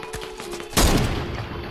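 A single loud, close burst of gunfire erupts mid-clip during a Fortnite Creative match, rising out of faint game ambience and trailing off in a noisy decay.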